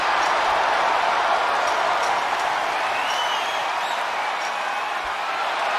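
A large wrestling arena crowd roars and cheers steadily throughout a Hell in a Cell match, a loud, dense, continuous wash of noise with no gaps.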